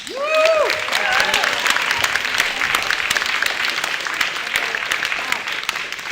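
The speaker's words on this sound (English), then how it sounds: "once again, your applause for the winners." An audience applauds loudly and continuously for winners at a game presentation event, a dense wash of clapping, with a few voices and cheers briefly rising at the start.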